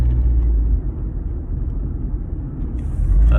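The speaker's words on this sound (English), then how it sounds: "Another nice van, you know." A van drives past on a road: a steady low engine-and-tyre rumble that holds throughout and swells louder near the end as it draws closer, with no talking.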